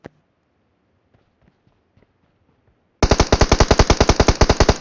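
Rapid automatic gunfire from a shooting video game bursts in after near silence, a loud, dense string of shots lasting nearly two seconds with faint scattered sounds before it.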